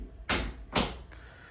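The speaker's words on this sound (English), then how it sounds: "and shut the door." An interior door swung shut in a home lab room, giving two sharp close thuds about half a second apart, the second slightly longer, followed by a faint softer knock.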